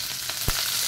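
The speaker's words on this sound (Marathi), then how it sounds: "तेल तापलेले आहे, त्याच्यामध्ये मी जिरे मोहरी घालते" Mustard and cumin seeds sizzle in hot oil in a steady, close hiss, with one sharp pop midway through the brief moment.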